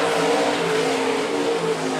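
Stock cars race on a dirt oval at Phillips County Raceway, their engines roaring loud and close in a continuous, steady drone as the pack runs past.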